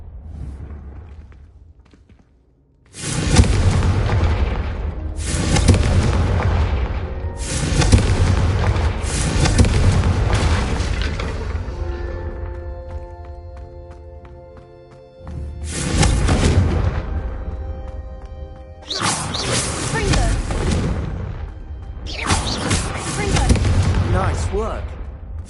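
Confringo fire-spell blasts in a Harry Potter video game: a series of loud booming explosions in rolling bursts, each decaying into a crackling rumble, with ringing tones between them.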